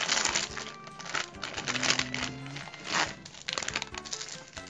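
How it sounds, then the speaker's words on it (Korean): A package of instant jjolmyeon ramen is torn open by hand, a close, loud run of crinkling plastic with sharp rips and crackles throughout, no one talking. "진짜 쫄면 뜯어볼게요."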